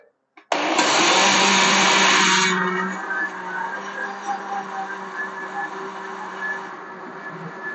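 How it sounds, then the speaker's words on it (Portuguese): A blender making plant-based milk starts abruptly and roars loudly for about two seconds, then settles into a lower, steady whir as it keeps running. "Aí agora bate um pouquinho no liquidificador."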